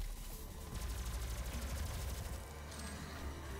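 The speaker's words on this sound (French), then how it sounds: "au plus je peux tirer en rafale, au moins je vise" Rapid bursts of gunfire from weapons in the video game Doom rattle along in quick succession, a faint, dense stream of repeated shots throughout.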